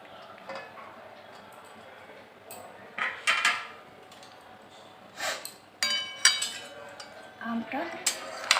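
Raw mango pieces tossed with salt, Kashmiri red chilli powder and oil for pickle, heard as scattered clinks and scrapes of a utensil against a bowl, with quiet pauses between bursts.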